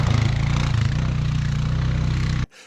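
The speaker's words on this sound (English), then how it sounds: "Recreational riders might find the Rubicon's exhaust note a little underwhelming" A 2021 Honda Foreman Rubicon 4x4 520 ATV engine idles with a low, steady, throbbing stock exhaust burble close by, then cuts off abruptly near the end.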